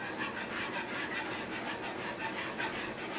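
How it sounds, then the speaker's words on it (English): Constant whisking of cheese into a sauce for lobster mac and cheese, a soft rapid rhythmic scraping and swishing in a pot, close and fairly quiet, with no voices. "what you're doing with the constant whisking"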